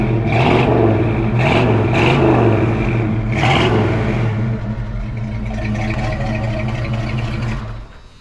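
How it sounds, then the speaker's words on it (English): A 1972 Mercury Cougar with a 351 Cleveland V8 and new dual exhaust revving up close, several sharp throttle blips over a deep rumbling idle, then a steadier hold before the engine dies away. "Tell you what, this little Cougar sounds great."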